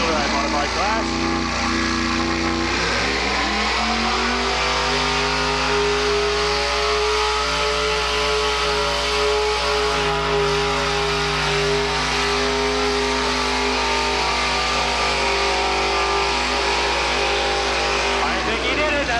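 A four-wheel drive modified truck with a 510 big block engine roars through a pull at a truck and tractor pull, a loud, sustained, deep engine howl that climbs in pitch and holds steady under an announcer's commentary.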